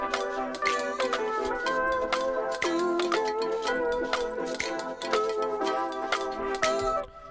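A lo-fi melody from a sample pack stacked over a beat in Ableton Live, with bright plucked tonal notes riding over steady, crisp percussive hits in a continuous loop, loud and close with no voices.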